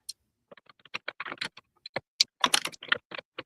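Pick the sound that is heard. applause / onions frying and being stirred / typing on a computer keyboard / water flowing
typing on a computer keyboard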